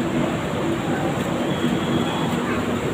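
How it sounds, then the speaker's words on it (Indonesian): Inside a passenger train car on a first train journey, a steady, loud rumble of running wheels and carriage noise fills the space continuously, with no clear talk above it. "Gue pertama kali naik kereta api, guys."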